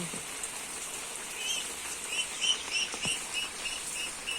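Steady outdoor rain in Istanbul falls as a constant soft hiss, with faint scattered drips and a few brief chirps rising above the wash throughout.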